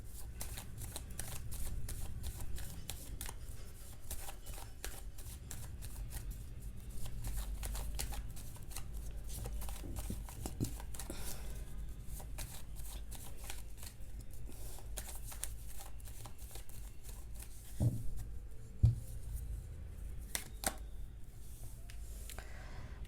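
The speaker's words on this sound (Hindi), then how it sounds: "जब तक मैं कार्ड शफल कर रही हूँ" Tarot cards are shuffled by hand close up, a long run of quick, soft riffling flicks and taps in irregular bursts, fairly quiet and with no talking.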